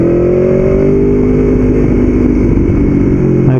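A motorcycle rides through a roundabout, its engine a loud, steady close drone that shifts pitch slightly as it leans and accelerates, with wind rumble underneath.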